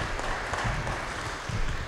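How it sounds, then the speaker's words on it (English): Audience applause at a member spotlight event, a dense, steady wash of clapping from a crowd, fairly loud and continuous for about two seconds. "Let's applaud 8 years."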